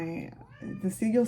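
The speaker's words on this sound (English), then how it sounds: "that's my cat" A house cat meows several times in close succession, short rising and falling cries close to the microphone.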